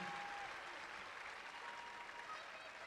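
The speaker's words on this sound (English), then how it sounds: "Let's give them a round of applause." A graduation audience applauds the high school teachers, a dense, steady wash of clapping from a large crowd, heard at a distance and fairly quiet throughout.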